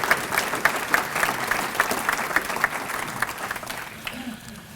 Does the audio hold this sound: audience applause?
yes